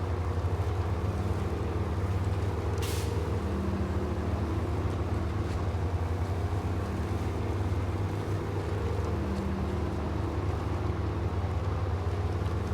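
A steady, droning truck engine in the video game SnowRunner rumbles at constant speed, low and even throughout, with a brief hiss partway through.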